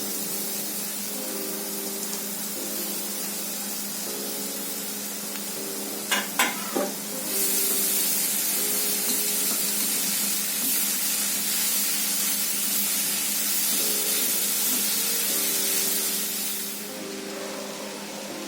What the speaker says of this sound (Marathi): आता आपण यामध्ये भाजी चुरडली आहे ती घालूया। आणि चांगले मिक्स करून घेऊयात मसाल्यांमध्ये